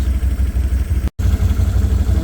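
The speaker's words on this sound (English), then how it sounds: "I gotta hook up the brush mower to the tractor" Steady, close engine of a tractor running with a brush mower attached, a continuous low throbbing idle with rattling clatter, broken by a brief cut in the sound midway, no talk.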